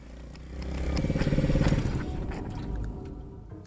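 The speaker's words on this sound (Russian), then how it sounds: "Еще несколько раз глушил мотор, чтобы переключить передачу." Motorcycle engine at night near an abandoned forest village, revving up with a rough pulsing throb that peaks mid-clip, then dropping back to a lower rumbling idle, close and fairly loud with no talk.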